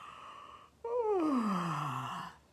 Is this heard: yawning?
yes